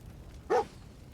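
A dog companion in the video game Fallout 4 lets out a single short, sharp bark, clear and alone over a quiet, low background hum.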